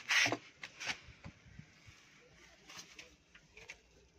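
Pigeons in a loft, a hen sitting below a cock: faint, soft cooing and brief fluttery rustles, with a sharper burst at the start, in a quiet indoor space.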